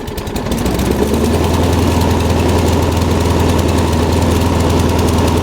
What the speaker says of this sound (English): it seems like it's trying to start. Let's go ahead and mess with the throttle